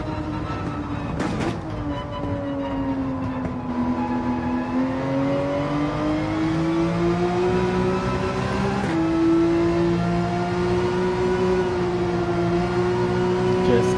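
A racing car's engine held under throttle in Gran Turismo 7 gives a loud, steady, close motor drone whose pitch slowly climbs, dips briefly, then rises again across the stretch.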